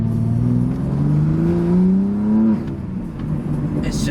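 A BMW G80 M3 with upgraded intakes and exhaust revs hard, its engine note climbing in rising sweeps before dropping back to a rumbling idle, close and loud.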